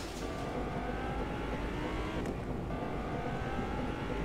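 A car in Fortnite drives with a steady, continuous engine drone and road rumble, moderately loud and unbroken, with no talking over it.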